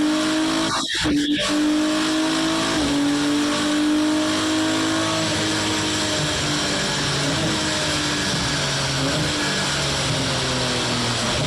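A car engine drops through gears with clutchless auto-blip downshifts, loud and close, revs rising and falling in steps over a steady drone, with no talking.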